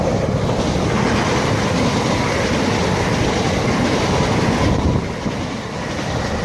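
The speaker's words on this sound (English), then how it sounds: "The 1703 Great Western Railway service from Paddington to Maidenhead." A Great Western Railway Class 387 electric passenger train, two units coupled, roars steadily past at close range at Slough, a dense rushing rumble that holds level, then eases slightly near the end.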